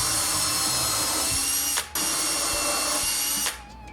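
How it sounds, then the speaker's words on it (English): A power drill bores pilot holes into the ends of wooden slats for an arched garden footbridge, giving a loud whining hum with a brief stop near the midpoint before winding down at the end. "Pre-drilling holes on the ends."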